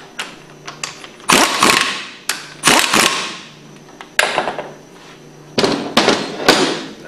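Bolts tightened on a hydraulic-driven Hypro centrifugal pump end plate, giving sharp metallic ratcheting bursts and clacks in short irregular clusters, close and loud, with no speech.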